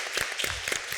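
Audience applause following a round-table discussion on archaeological museums, a short burst of scattered claps, moderately close and fairly quiet.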